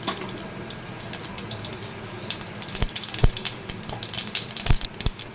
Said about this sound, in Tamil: இப்போ நம்ம தேவையான கடுகு போட்டு பொறிச்சிக்கலாம்